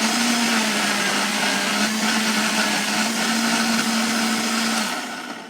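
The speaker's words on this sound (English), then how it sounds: "Then I'm just going to put it onto our blender here. It's going to get loud once more," A Vitamix blender runs steadily at high speed with a loud, constant whirring drone, then winds down near the end.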